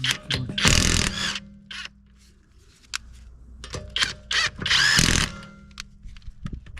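An impact wrench with an impact socket works a wheel nut, giving loud near rattling bursts of hammering separated by short pauses and lighter clicks of handling.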